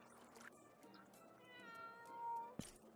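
Cat meowing in the Animal Rescuer video game: several drawn-out meows rise and fall over a soft game background, ending with a sharp click, with no talk over them.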